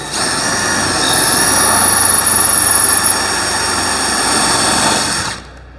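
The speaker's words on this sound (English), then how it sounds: "put it on a fast setting, hold that against there, and then just drill through it" A power drill whines steadily at high speed while drilling through tile for about five seconds, a loud continuous grinding drone that cuts off abruptly near the end.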